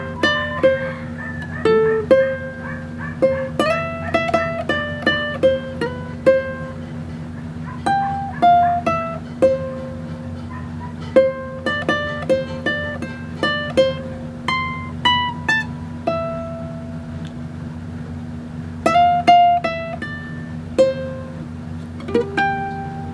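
Fingerstyle ukulele picks out the bridge of a song in clear, ringing plucked notes and arpeggios at a relaxed tempo over a steady low background hum, with no voices.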